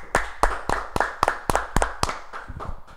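A few people clapping in a small studio, about a dozen sharp, distinct claps in an uneven rhythm, close and fairly loud with no talking.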